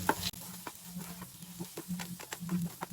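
Turmeric powder and asafoetida being stirred into a kozhukattai mixture in a pan, with soft repeated scraping and stirring strokes, close and fairly quiet, under a faint steady low hum, with no talking.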